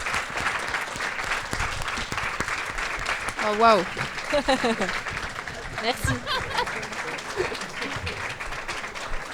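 An audience at a Quai des Bulles 2024 festival talk applauds steadily for several seconds, with a few chuckles and brief voices speaking French over the clapping.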